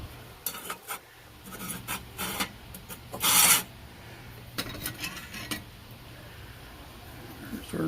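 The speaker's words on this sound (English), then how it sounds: "So we'll just take some 4/0 steel wool and polish that up the best we can." 4/0 steel wool rubs and polishes the metal of a Coleman 200A black band lantern, producing intermittent close scratchy rasping strokes in short bursts, fairly quiet with brief pauses between passes.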